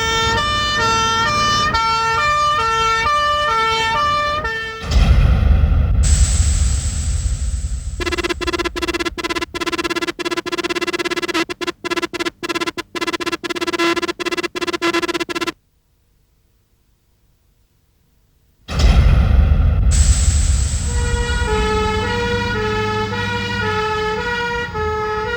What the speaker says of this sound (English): you'll see one of the many makes of pump engine racing to the scene.